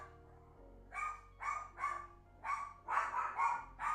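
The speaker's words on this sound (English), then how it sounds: "my dog's having a field day over there" Indoors, a dog barks about seven times in a steady, repeated rhythm, medium distance and moderately loud, over a low background hum.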